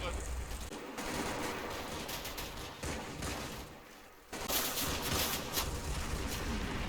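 Dense bursts of rifle and machine-gun crossfire from the WWII wargame Combat Mission at Monte Cassino, rattling in rapid clusters with a brief lull midway before the shooting picks up again.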